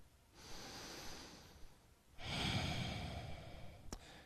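Two slow, close breaths held through a yoga hip stretch, the first a softer inhale and the second a longer, louder exhale, ending with a faint click.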